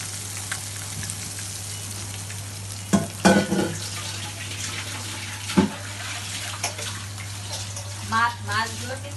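Three fish sizzle and spit in a frying pan of hot oil, a steady crackling hiss with a few louder pops and spatters, while a person talks over the frying.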